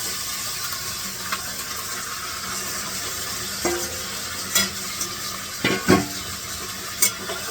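Marinated chicken coated in salt, chilli, turmeric and ginger-garlic paste fries in a pan with browned onions, a steady close sizzle broken by several louder scrapes and clinks of stirring; no one speaks.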